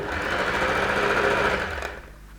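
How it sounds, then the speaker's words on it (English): A sewing machine runs steadily, stitching around a fabric frill on the arm of an off-shoulder ruffle top, a close continuous whirring hum that stops abruptly near the end. "now I'm just sewing around the frill bit on the arm"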